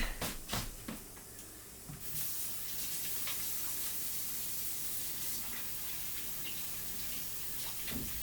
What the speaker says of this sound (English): Just gonna wash my hands real quick.